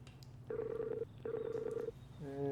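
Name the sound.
telephone dialing to place a call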